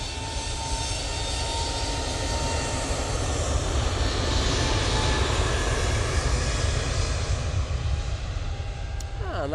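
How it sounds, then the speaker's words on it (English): A jet airliner at Manchester Airport gives a loud, steady engine roar that holds evenly throughout, with no talk over it. "that's the plane I flew to Pisa on"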